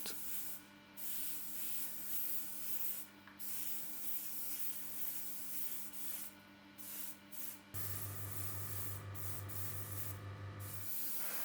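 Airbrush spraying a coat of clear varnish onto a 1/24 Tamiya Porsche 959 model body, a steady close hiss broken by short pauses, with a louder low compressor hum in the last few seconds.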